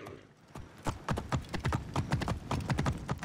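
Horse hooves clip-clop steadily in the game Assassin's Creed Origins, a brisk, even rhythm of close, loud hoofbeats that picks up after a quiet start and continues alone.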